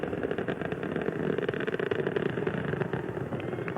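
Space Shuttle Challenger's main engines during the STS-7 launch, throttled down to 75 percent, give a steady, distant broadband roar with a rumbling low end and no pauses.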